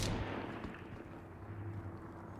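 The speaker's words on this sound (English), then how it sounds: "I didn't mean to fire that round" A weapon round fired in the Star Citizen space game: a sharp blast at the start, then a sustained low rumble and hum trailing off. No talk over it.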